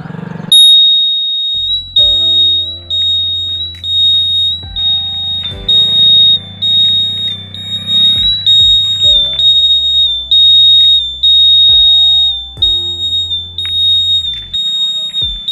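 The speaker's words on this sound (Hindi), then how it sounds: "फिट कर दिया मैं अभी इस बजर को, यहाँ फिट कर दिया।" An aftermarket buzzer fitted to a Honda Aviator scooter holds a shrill, piercing tone almost continuously, with brief dips, loud and close, over lower mixed sounds and possible voices.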